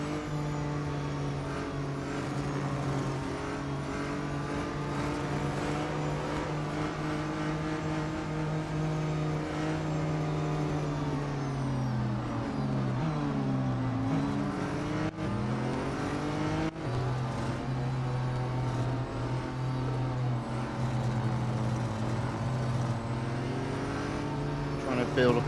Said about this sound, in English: we've got a whole line of cars.